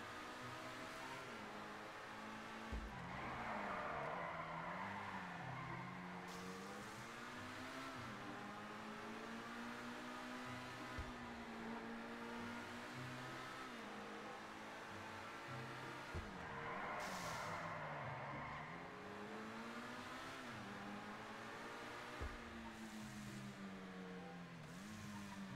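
Comet Safari car in GTA 5 driving continuously with engine revs rising and falling in waves, with occasional skids and tire noise over a steady, moderately loud drone.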